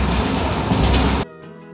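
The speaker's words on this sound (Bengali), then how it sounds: "ট্রেনটা ভালোই চলছিল।" A passenger train running on its tracks on a Rajasthan journey between Jodhpur and Jaisalmer, loud and steady rumble for over a second, then cutting to a much quieter interior hum.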